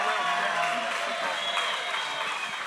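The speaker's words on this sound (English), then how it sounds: "Let's give him a round of applause." Sustained audience applause with some cheering at a talk celebrating a surfboard shaper from the Santa Barbara and Kauai surf scene, steady and dense throughout the clip.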